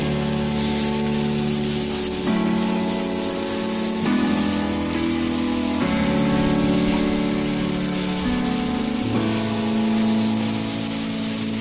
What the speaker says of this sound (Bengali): যে ম্যারিনেট করা লইট্টা মাছটা সেটা দিয়ে দিচ্ছি। ভালোভাবে নেড়ে দিচ্ছি।